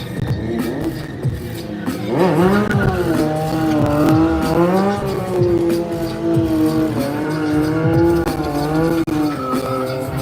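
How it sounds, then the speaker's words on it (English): A car does a tire burnout at a stampede event, its engine revving and wavering loudly over a continuous high tire squeal, close and sustained. "And Brochet burning the tire off the backside."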